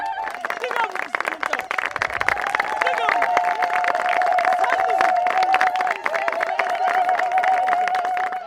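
An audience welcoming guests on an Ethiopian show bursts into sustained, high-pitched ululation mixed with clapping and cheering, rising to a steady lively din.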